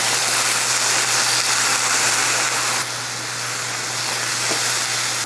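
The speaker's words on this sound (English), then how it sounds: "These edamame are starting to get a little golden, so we're gonna add in some soy sauce and garlic" Soy sauce and garlic hit golden edamame in a hot pan, giving a loud, steady sizzling hiss that eases slightly partway through, with no talking.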